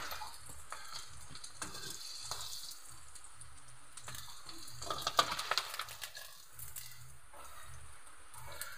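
Crispy chicken feet frying in hot oil, a quiet continuous sizzle and crackle with a few clattering bursts as pieces are moved, plus some faint watery sounds.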